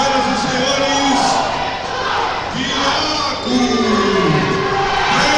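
Crowd of fans at an STR Fight event cheers and chants loudly and continuously, with rising shouts and whoops from many voices.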